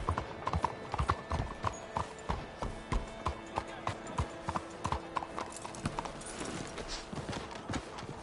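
Horse hooves clip-clopping at a steady trot in the Red Dead video game, an even rhythmic series of close, moderately loud hoofbeats that carries on throughout with faint background sound.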